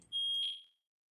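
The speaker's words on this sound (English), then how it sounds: "My granddaughter's cooking dinner tonight, so the alarm is going off." A household smoke alarm sounds while dinner is being cooked: a single loud, high electronic beep of about half a second that cuts off cleanly into silence.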